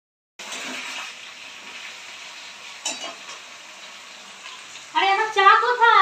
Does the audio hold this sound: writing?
no